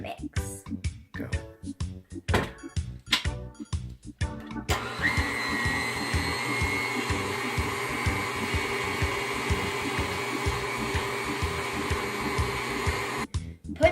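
Cake batter is mixed with sour cream, starting with a few seconds of clattering and talk. An electric mixer then whirs steadily and loudly for about nine seconds before stopping.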